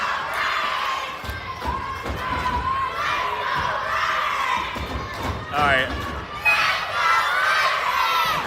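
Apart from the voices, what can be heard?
dueling chants by rival crowds at a junior hockey game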